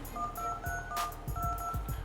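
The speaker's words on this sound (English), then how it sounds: "The phone dialer is a standard Windows phone dialer, and you can see over here that you have really nice Windows dialer keys." Windows Phone dialer keypad tones on a Samsung Omnia W, several short beeps spaced irregularly over a couple of seconds, with light tapping beneath and no talk.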